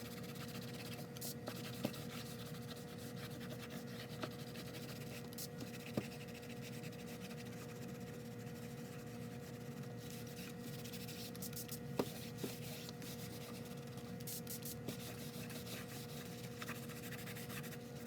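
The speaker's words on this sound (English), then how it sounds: "I've never scrubbed ink off of anything before like this." A paper towel scrubbing wet ink off an art journal page, a continuous close rubbing and scraping texture with no voices.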